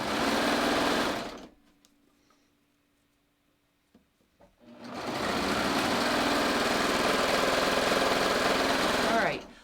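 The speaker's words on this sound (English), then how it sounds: "I'm just going to sew straight down to the end of the side seam on the dress part." A sewing machine stitches straight down a dress side seam with a loud, fast, steady whir. It runs close up, stops for a few seconds of near silence, then starts again at the same pace and continues to the end.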